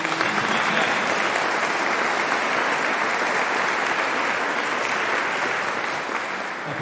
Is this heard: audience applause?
yes